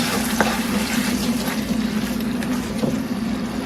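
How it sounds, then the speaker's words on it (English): A splash of water poured into a pan of black pepper tofu stir-fry sauce gives a brief watery pour and bubbling hiss over a steady background hum. "We're just going to add a splash of this water just to break it down slightly."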